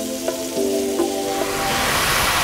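Beef browning in a hot pan for Vietnamese beef stew, a steady close hiss of sizzling fat with a faint tonal hum in the background.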